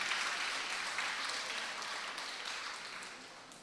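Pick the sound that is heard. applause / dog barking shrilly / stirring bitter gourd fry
applause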